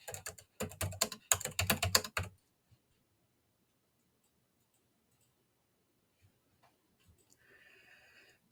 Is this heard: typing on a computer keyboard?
yes